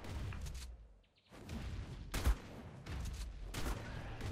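Gunfire in the ARK survival video game, several sharp loud shots cracking out in irregular bursts, with a short quiet gap before the firing resumes and rumbling game noise between the shots.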